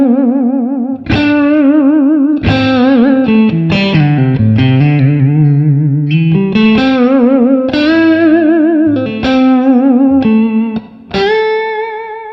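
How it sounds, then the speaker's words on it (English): Electric guitar notes bend and waver with wide whammy-bar vibrato, loud and sustained, with an effects-laden tone and a few brief gaps between phrases. "I'm just going to do a bigger movement with this hand while I'm grabbing the vibrato arm, the whammy bar"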